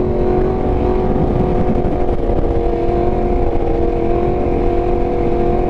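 A Yamaha R1 motorcycle engine drones loud and close at a sustained high pitch during a wheelie, steady and unbroken throughout with no voices.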